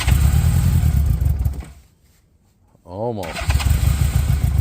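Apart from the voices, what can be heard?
1981 Honda Goldwing motorcycle engine cranking on cold start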